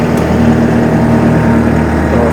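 A Yanmar engine on a Shaktiman 3785 harvester runs at a steady, smooth idle, with an even mechanical hum close by and no talk over it.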